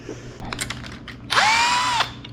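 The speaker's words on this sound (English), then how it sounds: "Need like a 14-inch long drill bit." A power drill bores out rivets on a racecar, first with short taps and clicks, then a loud sustained whine that rises in pitch and holds for almost a second before cutting off.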